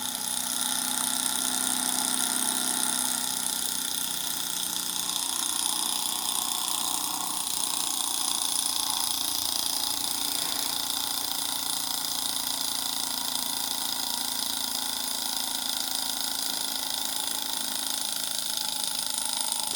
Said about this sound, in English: What a beautiful little engine. Sounds great.